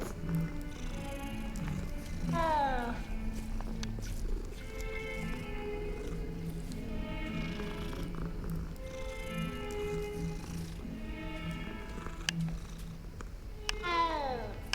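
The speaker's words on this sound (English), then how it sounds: "You can pet cats." A cat being petted in Hogwarts Legacy meows repeatedly in short rising calls, with a steady low purr running underneath throughout.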